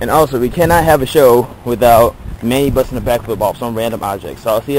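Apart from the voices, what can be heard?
No distinct noise like a dog, phone or traffic.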